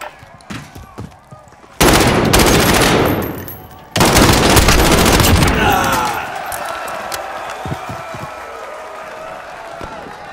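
Heavy automatic gunfire from armor-piercing rounds in the Warzone battle royale game, two long loud bursts of rapid shots separated by a brief pause, trailing off into quieter scattered shots and rumble.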